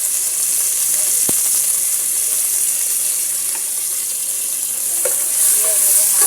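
Onion with ginger-garlic paste fries in a hot pan, giving a loud, steady, close sizzle throughout, broken by a few faint clinks and stirring sounds.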